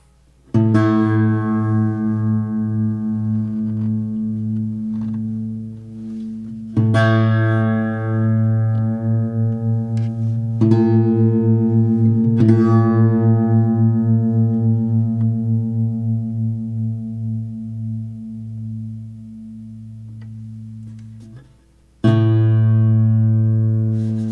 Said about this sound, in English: the sound of the note was going in and out slightly